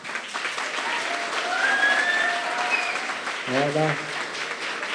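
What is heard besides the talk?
audience applause at an eloquence contest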